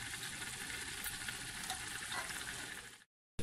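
Mutton sizzles and fries steadily in a pot as pulao is started, a continuous loud crackle that runs for about three seconds before cutting off abruptly.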